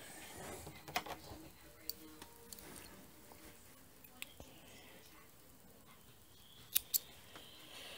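Scissors snip knitting yarn while finishing a midgauge Fair Isle round-yoke cardigan's front bands, a few sharp faint clicks spaced apart, the clearest pair near the end, over a quiet room.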